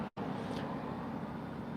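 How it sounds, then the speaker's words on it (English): A steady BMW X5 engine idling up close, a continuous low rumble with a brief dropout near the start; no distinct knock stands out despite a reported knocking sound like rod knock. "it's giving this knocking sound, and it sounds like rod knock"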